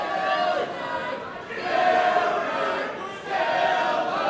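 Wrestling crowd at a six-man tag team match chanting a wrestler's name, a loud, rhythmic massed chant that swells in waves, filling the arena.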